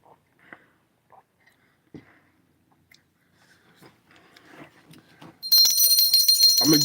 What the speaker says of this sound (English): I'm ringing the bell for Keenan and Sergeant.